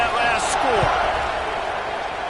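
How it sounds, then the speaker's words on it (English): Football stadium crowd at an Oregon at Penn State game, buzzing steadily just after a score, a broad continuous roar heard under a commentator's voice, with a brief thud early on. "this crowd is buzzing after that last score"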